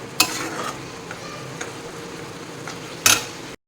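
Shrimp paste frying in a pan while being stirred, giving a continuous soft sizzle broken by two sharp scrapes of the spatula against the pan, one near the start and one near the end, with no talking.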